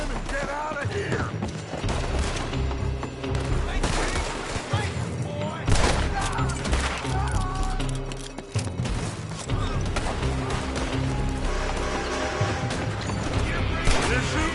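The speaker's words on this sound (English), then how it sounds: "They're shooting from that building." Gunfire rattles through a shootout in Red Dead Redemption 2, with repeated loud shots and bursts over shouting voices and game effects.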